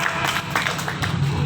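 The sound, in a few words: audience applause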